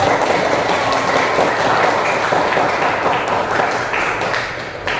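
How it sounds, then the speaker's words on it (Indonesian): Classmates in a mathematics lesson give a lively round of applause for a student, steady dense clapping throughout that tapers slightly toward the end. "tepuk tangan yang meriah"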